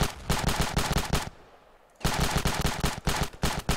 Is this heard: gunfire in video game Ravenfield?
yes